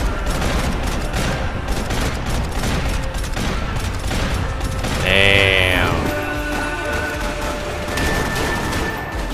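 Pistol gunfire from the video game Max Payne 3 rings out as dense, rapid, loud cracks over busy in-game action noise, with a brief metallic mechanical sweep in the middle.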